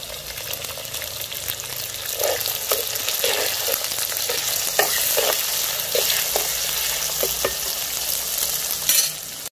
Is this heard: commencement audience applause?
no